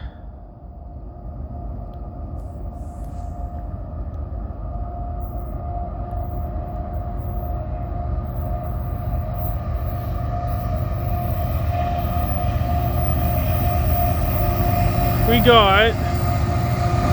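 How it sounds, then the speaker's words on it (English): An eastbound CN freight train rolls past a station at night in Cobourg, Ontario, a steady low rumble building gradually, with a brief rising tonal squeal near the end and someone speaking briefly over it. "So what do we got for power on this eastbound CN train?"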